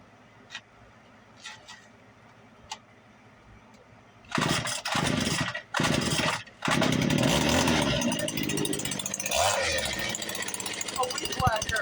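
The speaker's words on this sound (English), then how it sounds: "A weed whacker engine of a chainsaw motor." A small two-stroke chainsaw-type motor, like a weed whacker engine, gets a few short pulls, then catches and roars close and loud, sputtering briefly before running steadily.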